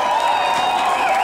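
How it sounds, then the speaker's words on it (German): Applause and crowd noise for Claudia Roth at the Cologne Pride (CSD Köln) stage event, a dense, steady wash of clapping with a crowd murmur throughout the short stretch. "jetzt erstmal der Applaus für dich"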